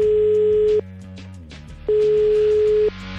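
A telephone busy signal on a foundation's line that goes unanswered, a steady tone sounding in two long beeps separated by a gap, loud and clear over a faint musical background.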